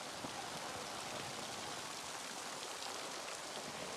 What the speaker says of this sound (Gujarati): આમ ક્યાંય નથી દેખાતું એટલો વરસાદ પડે છે